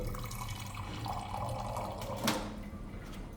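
Water runs from an alkaline water machine into a jar or glass, a steady pouring hiss with a brief louder splash near the middle, fairly close and without talk.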